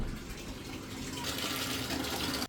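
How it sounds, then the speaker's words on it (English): Water poured from a small bowl over a hairless sphynx cat, a steady close splashing pour running for a couple of seconds before cutting off abruptly. "I'm just gonna grab this little bowl from the sink and put water on him."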